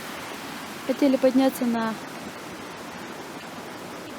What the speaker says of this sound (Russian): Конечно, тут же идет до сих пор дождь.